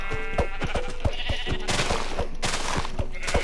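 Sheep bleating in the Minecraft video game, several short repeated bleats in an irregular rhythm over a busy game backdrop, with no talking.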